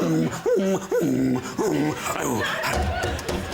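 A person imitates a dog snuffling with their voice, giving it a heavy, weighty feel: a few close, voiced snorts and grunts in quick bursts, followed by rougher breathy noise, with other voices and laughter mixed in.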